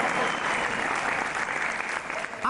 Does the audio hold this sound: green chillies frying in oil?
no